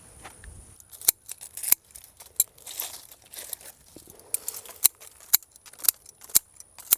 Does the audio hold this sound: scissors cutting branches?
yes